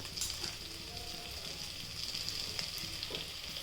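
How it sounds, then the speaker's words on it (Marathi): Vegetables, including edible flowers, sizzling as they fry in a little oil in a pan, a steady soft crackle with faint scattered pops, close and fairly quiet. "छान अशी थोडी तेलात भाजून घ्यायची"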